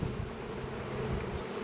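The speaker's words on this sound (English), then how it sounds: "Bees, I shook 2 extra frames of bees" Honeybees from shaken hive frames buzz in a steady, dense drone during a late March apiary inspection, close and continuous without break.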